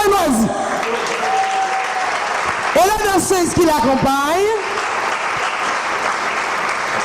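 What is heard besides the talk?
audience applauding at a dance event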